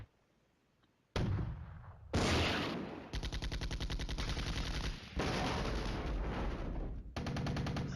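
Artillery and gunfire in the Flashpoint Campaigns wargame: after a quiet second, heavy bursts of rapid, rattling fire and booming impacts roll on almost continuously, loud and close, with brief pauses between barrages.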